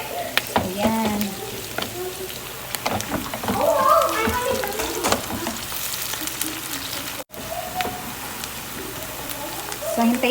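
Garlic and green chili peppers fry in a pan while sweet chile shrimp is being made, a steady crackling sizzle with scattered stirring clatters, heard close and mostly clear with brief voice-like sounds at the start.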